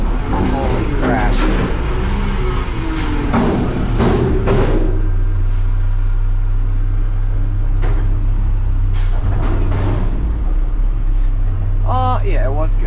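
Front load garbage truck with its engine running low and steady throughout, plus bursts of air brake hiss, while people talk over it in the cab.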